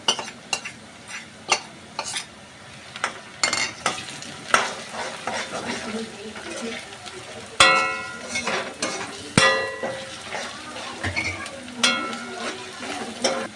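Onion fries with ginger garlic paste for egg bhurji, a steady sizzle under repeated scraping stirs and sharp clacks of a spoon against the pan, close and fairly loud.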